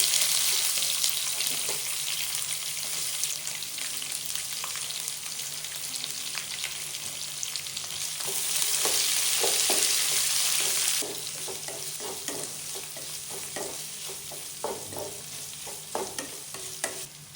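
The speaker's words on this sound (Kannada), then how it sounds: "ಸೊ ಫ್ರೈ ಆದ ನಂತರ ಈರುಳ್ಳಿನ ಹಾಕಿ." Onions fry with curry leaves in a pan, a steady close sizzle with regular scraping stirs, briefly louder in the middle.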